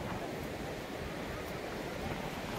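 Ocean waves break and wash ashore in a steady, continuous roar of surf, close and fairly loud, with wind noise on the microphone throughout.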